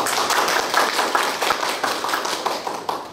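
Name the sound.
audience applause at a forum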